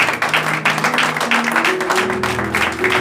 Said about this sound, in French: Est-ce que quelqu'un peut applaudir?